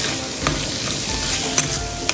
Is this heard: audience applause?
no